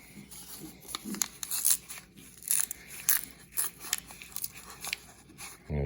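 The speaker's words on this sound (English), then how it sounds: "I just have to cut this open." Scissors or a blade cut open a paper coin roll of silver dimes, giving close, crisp crunching, snipping and tearing bursts in an irregular rhythm, ending with a brief rattle.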